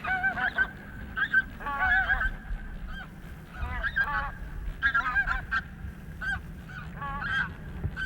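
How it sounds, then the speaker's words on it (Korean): Geese with goslings honk repeatedly on an Arctic breeding island, bursts of nasal calls coming in irregular clusters over a low wind rumble, fairly close and clear. "기러기들이 새끼들 데리고 둥지 떠나기를 서두른다."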